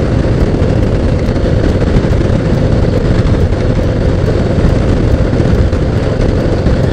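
A 2018 Harley-Davidson Heritage with a 114 cubic inch engine rumbles on a test ride, a loud, steady low drone mixed with wind noise throughout, no talking.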